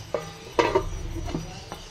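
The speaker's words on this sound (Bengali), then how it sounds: "মাছগুলিকে এবারে আমি ঢাকা দিয়ে ঢেকে দেব, যাতে ভালোভাবে আর একটু সেদ্ধ হয়ে যায়" A lid goes onto a pot of simmering fish curry with the fried fish added, giving a few close metallic clinks and knocks spread over two seconds against a soft kitchen background.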